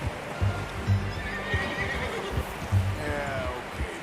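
A horse in the video game Red Dead Redemption 2 neighs and whinnies several times over hoof clip-clops, moderately loud and close, with faint ambient game sound behind it.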